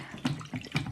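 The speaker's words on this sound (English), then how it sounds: "first let's fill up the water" Water runs from a tap into a plugged sink for washing fidget toys, with uneven splashing bursts that rise and fall over a short stretch and no talk.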